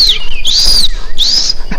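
A voice imitates an excited bird's call with quick swooping whistles: a falling note, then two longer rising-and-falling notes, close and clear, with no talking.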